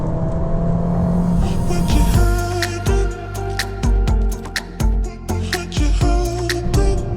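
A 2019 Abarth 595 Essesse hatchback driven hard on twisty roads, the engine revving up and down in repeated surges with sharp shifts between bursts, loud and close.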